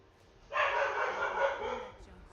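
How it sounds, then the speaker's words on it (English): A dog barks in the video game Skyrim, one sustained harsh bark-like burst lasting about a second and a half, fairly loud over quiet game ambience. "Go get him, dog."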